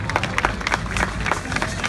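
An outdoor crowd applauds a military marching band at a farewell ceremony, a dense, steady wash of many hands clapping with a faint murmur of voices.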